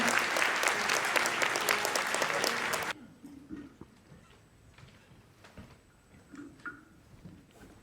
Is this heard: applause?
yes